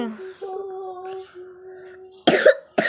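Someone speaks briefly, then a child lets out two sharp, close coughs at the end.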